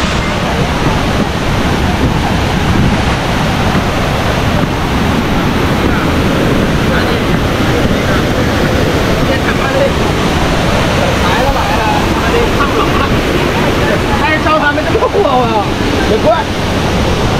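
Kuang Si waterfall in Luang Prabang, Laos, gives off a steady, loud roar of rushing, splashing water that fills the whole stretch without letup.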